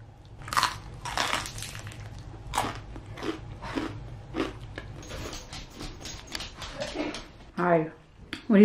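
Someone bites and chews crispy smashed potato wedges up close, with repeated crackly crunches spread over several seconds and a few louder bites near the end. A voice is heard at times and the room is quiet.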